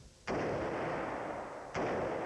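M4 rifle fired at an outdoor shooting range in Pinellas Park without a flash hider: two loud, sharp shots about a second and a half apart, each followed by a long booming rumble that fills the gap.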